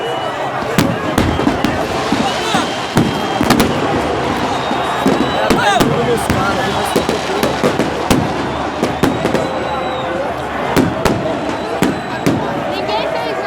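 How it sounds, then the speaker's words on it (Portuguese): Police gunfire aimed at Guarani football fans after the 2016 Série C final, sharp bangs cracking out repeatedly and irregularly amid a loud, agitated crowd with shouting voices. "eles começaram a atirar"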